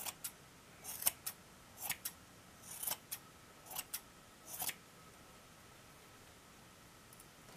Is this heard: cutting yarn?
yes